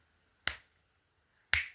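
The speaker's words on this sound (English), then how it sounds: "yeah, proper finger snap." Two crisp, close finger snaps about a second apart, each sharp and isolated against near silence.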